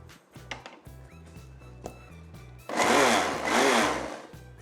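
A mixer blender whirs through mango fruit juice, first with a few short knocks and pulses, then a loud, sustained grinding roar for about two seconds that eases off at the end.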